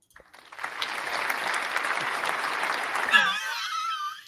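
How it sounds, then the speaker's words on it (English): Applause that swells in after a short pause and continues steadily for a few seconds, with a voice breaking in near the end. "Is that a built-in applause?"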